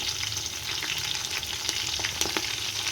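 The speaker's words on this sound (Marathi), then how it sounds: "तर मिरची भाजते तर आपण पनीर कापून घेतो." Green chillies roast in a pan with a dense, continuous sizzle and scattered crackles, close and steady for a few seconds with no voices.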